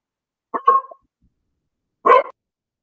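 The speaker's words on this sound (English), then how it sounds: "Sorry he's barking." A dog gives two separate sharp barks about a second and a half apart, close and loud against silence.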